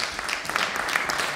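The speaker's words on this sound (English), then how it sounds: "Yeah, clap for yourself." Audience members clap at a university musicians' forum, a short burst of dense applause filling the room at a steady level.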